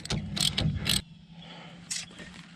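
A ratchet with a 19mm socket snugging a bolt during a 3-inch suspension lift on a Dodge Ram 2500/3500, heard as a few quick bursts of rapid clicking, then quieter mechanical handling.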